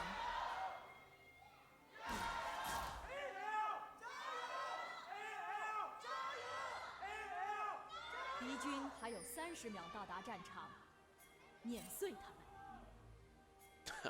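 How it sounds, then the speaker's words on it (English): A live esports arena crowd at a professional League of Legends LPL match, Weibo Gaming against Anyone's Legend, lets out loud bursts of half shouts and cheering that rise and fade in waves, with people talking throughout. "I always love the sort of like half shouts that come after the gyos."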